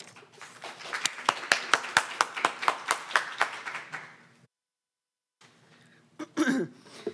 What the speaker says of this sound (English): And then you get applauded.